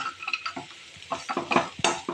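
Bitter gourd fry with curry leaves, coriander and peanuts is stirred in a pan, with close scraping and clinking of a spoon against metal in quick, irregular strokes over a faint sizzle.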